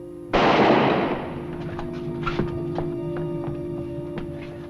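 A single loud gunshot in a western TV episode, a sharp close blast that decays into a lingering ring, followed by quieter scattered knocks and rustles.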